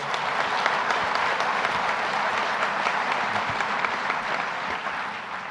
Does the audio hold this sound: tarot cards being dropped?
no